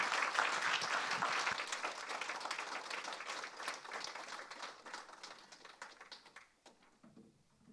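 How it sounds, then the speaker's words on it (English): Conference audience at an opening session in Mungyeong, South Korea breaks into applause that starts full and loud, then gradually thins and fades over several seconds into scattered claps. "Please give him a big round of applause."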